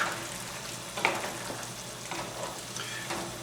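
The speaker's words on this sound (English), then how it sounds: "Give it a quick stir." Beans being stirred in a cooking pot as they boil and bubble, a steady wet sizzling and bubbling texture with a few louder scraping stirs, close and continuous, no talking.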